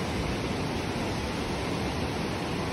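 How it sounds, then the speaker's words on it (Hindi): Water flowing after a landslide in Himachal, a loud, continuous broadband rush with no breaks, like a fast stream or small waterfall close by. "देखो अब तो मतलब पानी का बहाव भी बहुत कम हो गया है"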